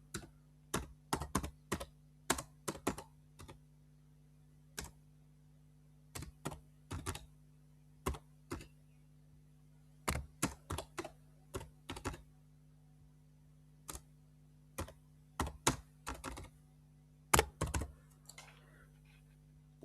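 Quiet, crisp keystrokes on a computer keyboard as a project name is typed, coming in short irregular bursts with pauses between them over a low steady hum.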